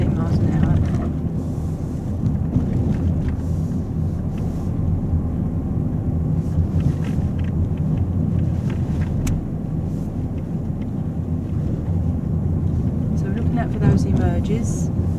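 A car drives slowly around a bend at about 15 mph, giving a steady low engine and road rumble with wind noise on the microphone, and a voice speaks over it throughout.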